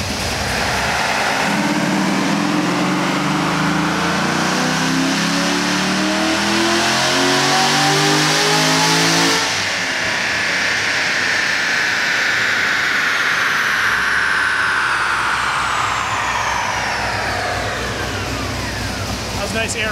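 A car strapped to a dyno for a tuning pull revs hard, its engine note climbing steadily for several seconds before swinging into a high, sustained wail and then a falling, whining tail.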